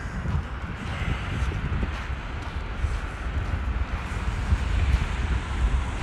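Steady wind roars and buffets the microphone outdoors while walking beside a creek in early spring, a continuous broadband rush with no talking.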